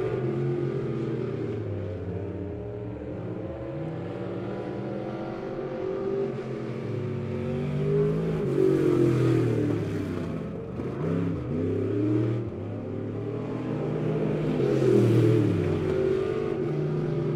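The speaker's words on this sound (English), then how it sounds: "the 56 of Mark Davis is extending his lead on a Friday night cruise around the mighty Midway Speedway" Race cars circle the Midway Speedway oval at a Friday night race, their engines droning steadily, swelling and fading as they pass with occasional revving, continuous and fairly loud throughout.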